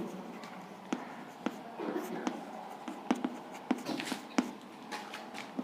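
Chalk or a marker strikes a classroom board in sharp, irregular taps and strokes as chemistry notes are written, with soft, low talk running underneath.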